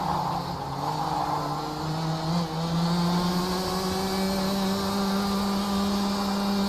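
High-revving senior-class racing kart engines at a circuit in South Africa, a loud, sustained buzzing drone with steady pitch that holds throughout without any speech.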